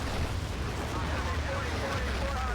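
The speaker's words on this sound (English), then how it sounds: "Artillery comes down, but it's just too late." Heavy artillery shells exploding during a Battlefield 2 conquest match, a dense continuous roar of blasts and rumble filling the whole stretch at steady loudness, with no clear gaps between impacts.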